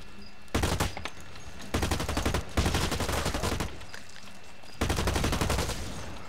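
Assault rifle fire in the shooter game Blacklight Retribution: four loud sustained bursts of rapid automatic shots separated by short pauses, close and dominant.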